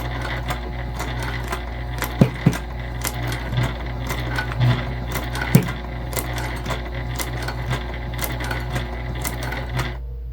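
A sewing machine runs continuously with a low motor drone and rapid needle ticking as it back stitches and bastes around all four edges of a bag's fabric panel. Occasional louder knocks break the steady stitching, and no one speaks.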